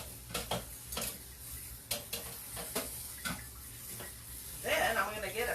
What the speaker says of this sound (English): So I'm rinsing this off a little bit.